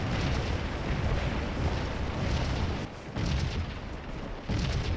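Artillery fire in the Civil War battle game Scourge of War: Gettysburg, heard as a dense, continuous rumbling roar of cannon with brief dips, loud and unbroken across the moment.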